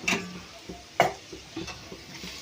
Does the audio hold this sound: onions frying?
yes